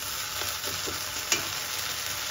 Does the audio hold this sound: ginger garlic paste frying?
yes